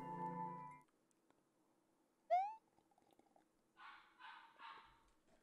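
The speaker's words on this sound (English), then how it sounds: "I don't know if you hear Mojo barking" A dog gives a rising yelp or whine, followed moments later by a short run of three muffled barks, faint and somewhat distant.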